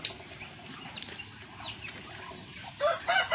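Chickens in a low-cost backyard coop at a Philippine duck and chicken farm cluck softly, with a few louder, sharper calls rising near the end over a light background hiss.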